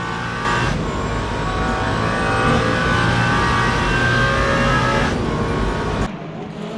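A Lexus race car in the Le Mans Ultimate sim at the 24 Hours of Le Mans, its engine roaring loud and close, revving through gear changes and sweeping past, then cutting off sharply at the end.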